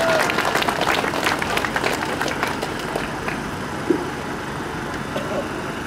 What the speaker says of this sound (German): Also ich bitte um einen großen Applaus.